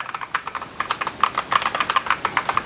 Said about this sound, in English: this has the purple switches. Compared to the blue ones, they don't make that much noise